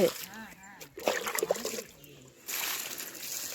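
Water splashes and sloshes from a can onto a hibiscus plant in a home garden, coming in irregular bursts that then turn into a steady pour, with someone talking over it.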